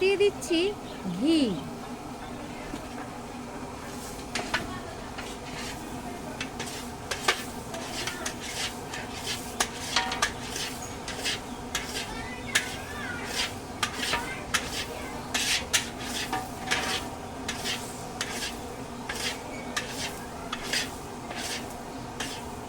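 Onions fry in a pan for stuffed aloo dum, with repeated sharp scrapes and clinks of a spoon stirring against the pan over a soft sizzle, close and fairly quiet, the strokes coming in irregular bursts.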